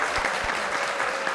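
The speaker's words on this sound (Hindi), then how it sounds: "तालियां हो जाएं।" Short burst of studio audience applause on a Pakistani comedy talk show, a brisk, moderately loud patter of many hands clapping for just over a second.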